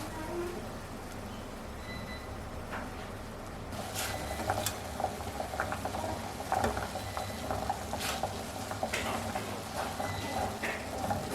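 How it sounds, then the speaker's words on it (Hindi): Water with boneless chicken bubbles and simmers in a pot with soft popping and gurgling, a steady low boil close by. "इसमें हम 1 कप जो बोनलेस चिकन है वो उबाल लेंगे।"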